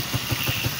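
A 2010 TMX 155 motorcycle engine idles close up, a steady loud putter with even low thumps about six times per second over a constant mechanical hum.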